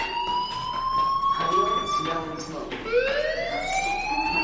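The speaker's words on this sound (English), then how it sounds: "do you hear that fire alarm? That means you should be outside." A school fire alarm siren wails in the Life is Strange video game, its rising and falling electronic tone sweeping continuously and loud, restarting partway through, with a voice speaking over it.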